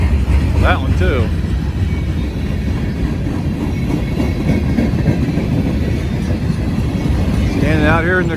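Long Union Pacific freight train with six locomotives, including a cabless slug and two distributed power units, rumbling past steadily and close in cold Kentucky rain, with a continuous roar of wheels and rail noise and brief squeals.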